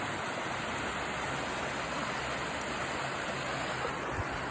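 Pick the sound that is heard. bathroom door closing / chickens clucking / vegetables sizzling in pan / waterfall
waterfall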